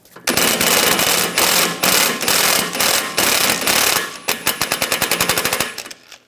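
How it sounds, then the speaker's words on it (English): An air impact tool loosens a bolt with a T50 socket on a 2009-2013 BMW 328i xDrive front CV axle, loud rapid hammering bursts in several runs, the last a fast rattling stutter. "Using a T50 socket,"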